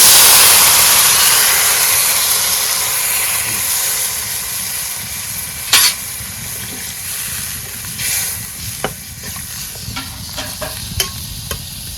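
Water poured into a frying fish curry sets off a loud sizzle that fades into softer bubbling and steam, with a few sharp clinks of a utensil against the pot.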